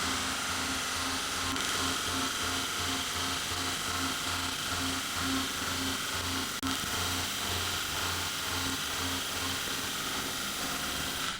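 A solar-powered CNC milling machine runs a test pass with a milling cutter, giving a steady, loud mechanical whine and hum with a regular pulsing rhythm throughout, alone and without talk.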